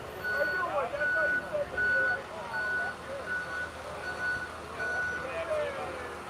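A truck's reversing alarm beeps in an evenly spaced series, fairly distant, outside an ICE detention center in Broadview, Illinois, with people talking over it and traffic rumbling underneath.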